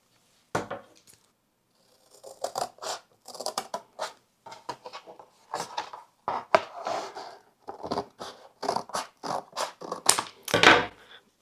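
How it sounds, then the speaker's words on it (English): A piece of cardboard being cut to size for a craft project, giving a run of crisp snipping and scraping strokes in quick irregular bursts, close and fairly quiet, with no voices. "I'm going to cut a piece of cardboard the same size as the graphic."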